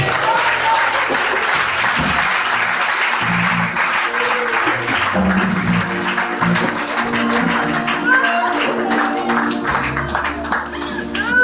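A church congregation breaks into sustained applause and cheering for Jesus, loud and dense throughout, with shouts and voices mixed in over the clapping.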